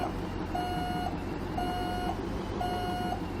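Three evenly spaced reversing beeps from a heavy truck being backed into a parking spot in Euro Truck Simulator 2, each tone about half a second long and clear above a steady low engine rumble.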